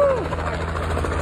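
A helicopter flies overhead, giving a brief, steady low rotor rumble and engine drone at moderate loudness, with a voice briefly audible over it.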